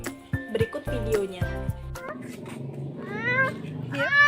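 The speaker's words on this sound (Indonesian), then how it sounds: "yang artinya itu suara kucing" Cat meowing several times in short, rising cries near the end, following a child's and adult's voices speaking earlier.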